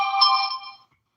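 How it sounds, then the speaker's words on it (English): A mobile phone ringtone plays a short melodic burst, loud and close, then cuts off abruptly and leaves silence. "so why am I ringing?"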